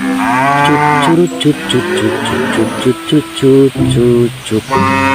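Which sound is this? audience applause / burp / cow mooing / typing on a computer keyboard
cow mooing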